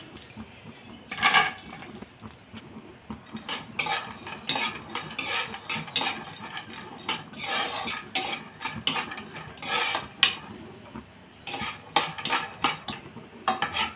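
Dates and dry fruits such as cashews and almonds frying in ghee are stirred with a metal spoon, giving busy, ratcheting scrapes and clinks in quick bursts over a low sizzle, with no voices.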